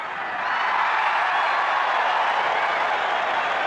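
A large stadium crowd at a 1984 Bledisloe Cup rugby test between Australia and New Zealand roars and applauds after a penalty goal, a dense, sustained wash of cheering and clapping.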